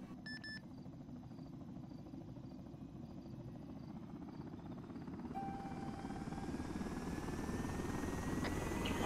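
In a military simulation game, a helicopter's rotor chops steadily and grows louder as the aircraft takes off. Short electronic beeps and tones from the cockpit sound now and then over the engine.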